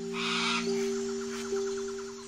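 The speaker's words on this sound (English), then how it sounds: "He's been squawking and flying under the sunny skies." A cockatoo lets out one harsh, loud squawk, followed by a quick series of fainter chattering chirps over a steady electronic hum.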